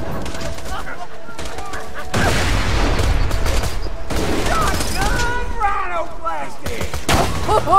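Shotgun blasts and gunfire in the Borderlands 2 video game, a dense run of loud overlapping shots over game effects, with voices talking throughout.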